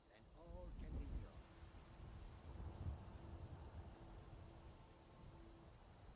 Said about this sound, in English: Crickets are a little too loud too.